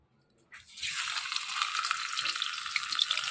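Hilsa fish heads dropped into hot oil, a sudden loud sizzle bursting up after a moment of quiet and then crackling steadily, close by, with no talking.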